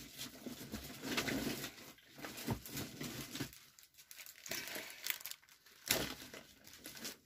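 Sheets of stickers crinkle and crumple as they are handled for a scrapbook layout, with papery rustles and a few sharper tearing-like bursts, close and moderately quiet, without talk.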